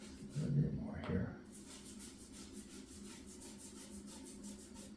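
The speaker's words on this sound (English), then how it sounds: "Now I use rags to wipe off the excess." A rag wipes excess lacquer off a 100-year-old oak table in soft, repeated close rubbing strokes with a slight rasp, while a person talks over it.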